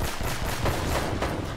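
Rapid bursts of gunfire from the video game Uncharted, an automatic weapon firing in a dense, continuous volley across the whole moment at steady loudness, with no talk over it.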